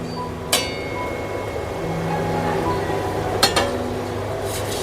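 Metal tiffin box set into a covered kadai while steaming hilsa: two sharp metallic clinks about three seconds apart, moderately close, over a steady low kitchen hum.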